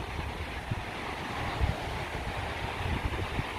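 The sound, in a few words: ocean waves and wind near the beach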